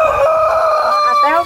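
A rooster crows once up close and loud, one drawn-out call that rises and falls, cutting off sharply at the end.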